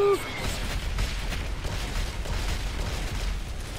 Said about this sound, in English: And lots of explosions.